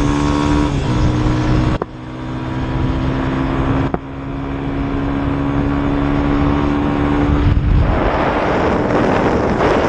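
A Yamaha FZ25 motorcycle engine held at high revs against its rev limiter, a loud continuous close roar with abrupt cuts near two and four seconds before climbing back, ending in a rougher surge.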